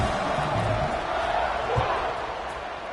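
Broad, steady stadium crowd roar from a college football video game, NCAA Football 26, during a kickoff at a Sooners at Mustangs matchup, sustained and fairly loud throughout with a few dull thumps.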